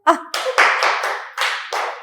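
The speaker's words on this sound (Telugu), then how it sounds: "ఇప్పుడు క్లాప్స్ కొట్టమను." A studio audience on the Saregamapa singing show claps together in several sharp, rhythmic bursts, loud and close, with a brief vocal sound at the start.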